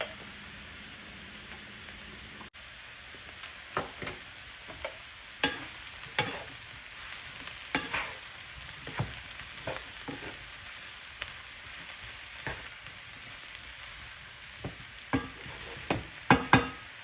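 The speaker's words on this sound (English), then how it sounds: "Now we're going to want the moisture of the mushrooms to cook out and all of this to cook down." Quartered mushrooms cook down in a pan for hamburger stroganoff, a quiet steady sizzle broken by intermittent spoon taps and scrapes spread across the clip, fairly faint with no talking.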